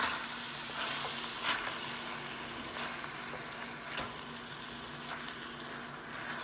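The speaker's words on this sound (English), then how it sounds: "I'm gonna stir that up again" Seasoned ground meat for enchiladas sizzling in a hot pan as it is stirred, a steady close frying hiss broken by several scraping stir strokes at regular intervals.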